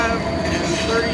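Norfolk Southern freight train passing with steady wheel-and-rail rumble and high metallic squealing tones, loud and continuous throughout.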